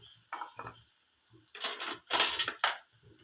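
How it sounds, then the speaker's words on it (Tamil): Egg cracked against a pan and poured into drumstick leaf stir-fry, a couple of faint taps followed by louder clinking and scraping of utensils on metal, close and without talk. "நம்ம முட்டையை உடச்சி ஊற்றிடலாங்க."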